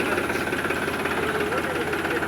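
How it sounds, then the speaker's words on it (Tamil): A Powertrac tractor engine runs at a steady, loud, throbbing idle with an even mechanical knock, filling the whole moment without pause. "இது பவர் ட்ராக் டிராக்டரு."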